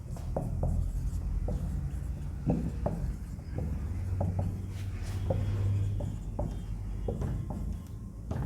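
Chalk or marker writing an example on a classroom board, a series of short scratchy taps and strokes at an uneven pace over a steady room hiss, close-miked and without talking.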